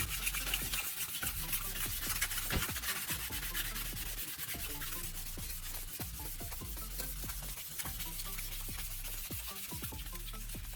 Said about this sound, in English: Keep the surface damp so the sanding stays smooth and controlled.